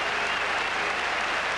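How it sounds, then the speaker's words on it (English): Cricket crowd at an Australia versus India Test match in 1981 breaking into sustained applause, a dense, even roar of clapping from a large stadium audience. "A generous round of applause, standing ovation for the outer"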